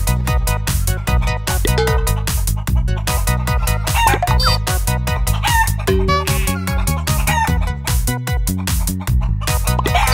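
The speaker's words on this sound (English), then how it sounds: "Want to see the chicken?" Chickens on a cherry farm cluck and crow repeatedly beneath loud, busy background music that carries through the whole stretch, with the birds' calls poking through at intervals.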